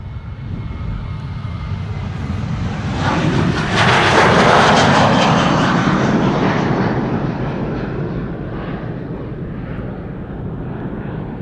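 A KLM Airbus A330-200 jet departs Amsterdam Schiphol Airport with a loud, continuous engine roar that swells to a peak midway through as it passes close, then slowly fades while staying strong to the end.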